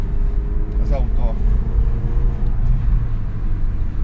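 A 1.6-litre Skoda Octavia Tour at operating temperature pulls hard under acceleration, its engine drone heard from inside the car as a loud, steady low rumble with road noise and a brief voice partway through.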